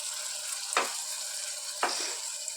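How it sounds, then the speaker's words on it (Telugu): Ginger garlic paste fries with browned onions in a pan, giving a soft continuous sizzle broken by two brief stirring scrapes. "ఇప్పుడు పచ్చివాసన పోయేంత వరకు ఫ్రై చేసుకోవాలి"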